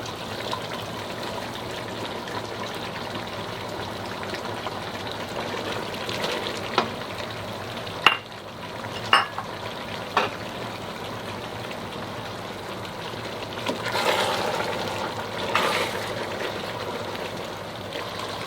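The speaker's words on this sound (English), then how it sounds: "Now we can add the chilies." Chilies for Bicol Express hitting a hot pan and being stir-fried, a soft continuous sizzle with a few sharp clacks of a utensil and a louder burst of frying near the end, no talk.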